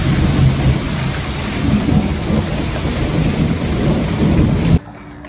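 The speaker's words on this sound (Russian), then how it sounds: "это у нас молния сверкает. Гром и молния." A thunderstorm after a hurricane brings loud, steady rain with deep, rolling thunder rumbling beneath it, then cuts off abruptly near the end into near silence.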